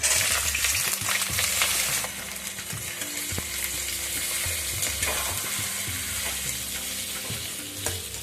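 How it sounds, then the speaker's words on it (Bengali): Sliced onion hisses and sizzles loudly in hot oil with whole garam masala for a Bengali-style homemade mutton curry, a steady close-up crackle with occasional stirring scrapes and no talking. "এবার আমি পেঁয়াজটা এর মধ্যে দিয়ে দিচ্ছি।"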